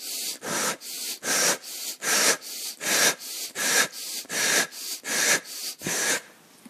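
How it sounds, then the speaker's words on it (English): Quick rhythmic breathing, a sniffing inhale through the nose followed by a breathy exhale through the mouth, repeated steadily and loudly up close. "you can breathe in through the nose and out through the mouth"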